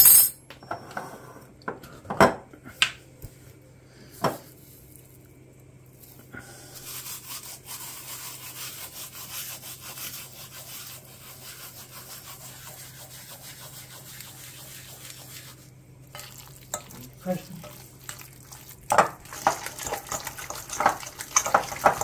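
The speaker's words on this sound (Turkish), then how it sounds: "Süzme yoğurt, normal yoğurt. Karıştırıyoruz, o kadar." A spoon scrapes and clinks around a bowl as strained and regular yogurt are stirred together, with soft rubbing strokes broken by a few sharp taps against the rim and no talking.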